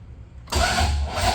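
An LS-swapped OBS truck's starter cranks the engine over, kicking in abruptly after a quiet moment and whirring steadily and loudly without catching.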